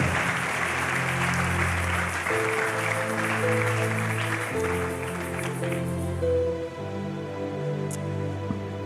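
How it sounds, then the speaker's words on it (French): A church congregation applauds loudly and steadily throughout, a dense wash of clapping under sustained music, fading slightly near the end. "Acclame très fort."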